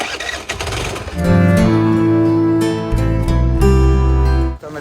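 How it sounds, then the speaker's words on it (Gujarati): A Honda Activa scooter engine cranks and catches, then settles into a loud, close, steady idle with a brief rev before cutting off at the end. "મયુરની એક્ટિવા એના જેવી જુઓ ચાલુ થાય"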